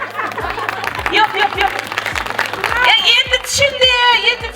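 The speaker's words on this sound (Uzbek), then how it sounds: "Zo'r qarsak chalyapsizlar." Audience clapping at a wedding celebration in a family home, a steady rhythmic beat of many hands running under a loud voice that talks throughout.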